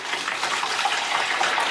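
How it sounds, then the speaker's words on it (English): A watery mixture of Dipel and water poured from a watering can into a basin, a steady close gushing splash that runs without a break and stays fairly loud throughout. "I'm going to pour it into a basin now"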